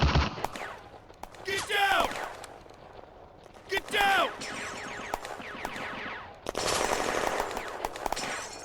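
Machine-gun and rifle fire in a WWII battle scenario, with bursts of rapid automatic shots coming and going, some loud and close and others more distant, alongside shouted voices and a whistling streak between bursts.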